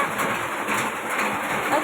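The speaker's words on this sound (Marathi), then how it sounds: "अरे बापले केवढा पाऊस आला." Heavy first rain of the season pours down as a steady, dense hiss that stays even and close throughout, with no clear voices over it.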